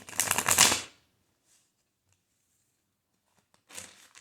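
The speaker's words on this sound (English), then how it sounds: "do one more shuffle here." Tarot cards being shuffled by hand in two quick riffling bursts, close and crisp, the first about a second long and the second shorter, separated by near silence.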